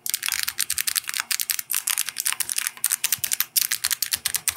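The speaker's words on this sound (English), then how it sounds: "Typing ASMR." Rapid, steady typing on an Alice-layout ergonomic mechanical keyboard with a wrist rest, crisp clacky keystrokes following one another closely and loudly, with a few short pauses and no talking.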